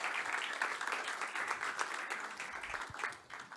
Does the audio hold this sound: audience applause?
yes